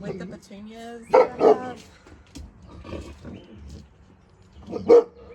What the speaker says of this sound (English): so if you hear barking, that's what's happening